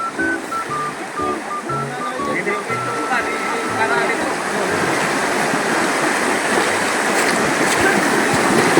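Steady rushing river water flows loudly and continuously in Baybay, Leyte, with voices talking over it at the start.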